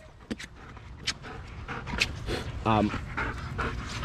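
A dog pants heavily and close by after running back on recall, with quick rhythmic breaths and a brief whimper, while a person talks over it.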